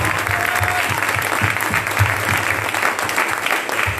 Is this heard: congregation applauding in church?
yes